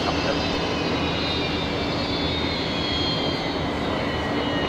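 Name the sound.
Qantas 126 airliner arriving at Brisbane Airport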